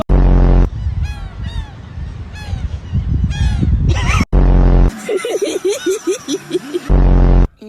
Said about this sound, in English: I caught a seagull!